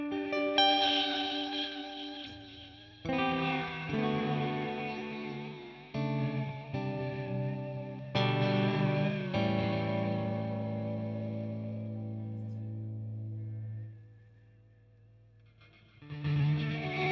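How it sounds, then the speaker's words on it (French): Electric guitar played through a pedalboard reverb set with vibrato and heavy degradation: sustained chords and notes swell into a wavering, washed-out tail that fades almost to silence before another strum returns. "c'est une reverb avec un vibrato, beaucoup de détérioration"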